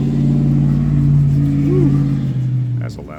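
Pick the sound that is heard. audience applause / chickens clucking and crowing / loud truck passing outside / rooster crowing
loud truck passing outside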